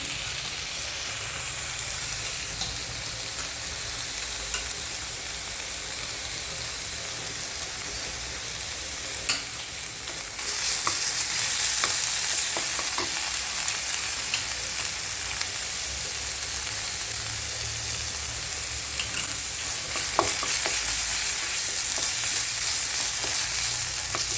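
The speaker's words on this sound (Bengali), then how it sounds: "পেঁয়াজটা এবার একটু ভাজা ভাজা হয়ে গেছে, এবার আমি দিয়ে দেবো হচ্ছে আদা রসুন" Onion frying with ginger and garlic in a pan gives a steady, even sizzle that hisses on without pause for the whole stretch, growing slightly louder partway through, with no talking.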